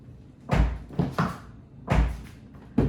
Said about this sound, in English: Just make sure the door opens.